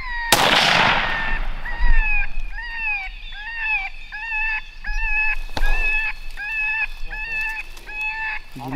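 A single loud, close rifle shot is fired at a tom bobcat during a morning hunt. It cracks out near the start, a second sharp crack follows later, and repeated honking bird calls and people talking continue around the shots.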